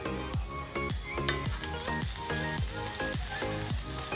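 Kanda poha with chopped coriander and lemon being stirred in a pan, with a close, steady sizzle broken by regular rhythmic scrapes of the spoon, about two per second.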